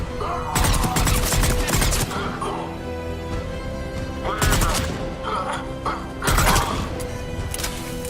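Heavy gunfire in a checkpoint battle in the video game Mass Effect 3: bursts of automatic fire and blasts come in three loud clusters, with shouted voices mixed in between.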